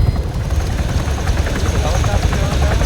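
A helicopter in the video game Arma 3 drones with a steady, loud rotor and engine roar that fills the whole stretch.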